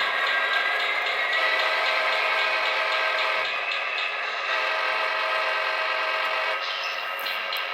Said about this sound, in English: when I blow the horn, it's overpowered by the prime mover